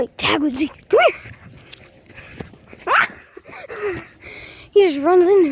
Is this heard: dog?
yes